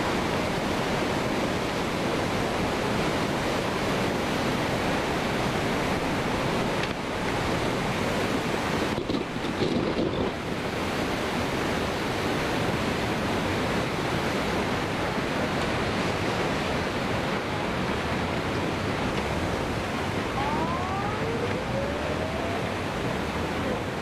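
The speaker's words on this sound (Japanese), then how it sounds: "全てのものを飲み込みながら津波が押し寄せています。" Tsunami waves surge in, engulfing everything in their path, as a loud, continuous roar of rushing water and wind persists throughout, steady and dense, with no voices.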